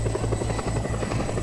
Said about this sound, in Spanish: estoy escuchando un helicóptero